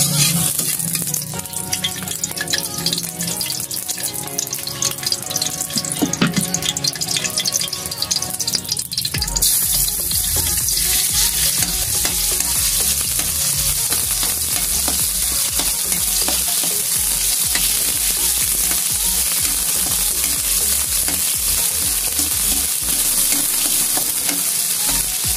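Oil sizzles and crackles steadily in a wok while ingredients are sautéed for Bicolano pancit bato guisado, with loud, continuous frying close by and stirring, getting louder partway through.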